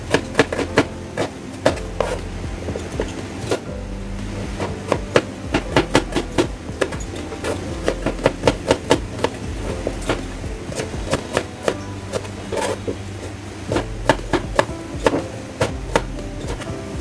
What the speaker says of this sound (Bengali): এবারে আমি পেঁয়াজ কেটে নিচ্ছি।